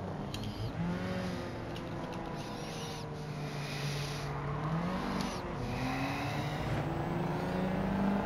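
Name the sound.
Ford Roadster engine sound in Gran Turismo 7 video game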